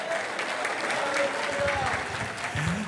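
A church congregation applauding after a call to glorify the Lord's name, a steady wash of clapping lasting the whole moment, with a voice speaking faintly over it.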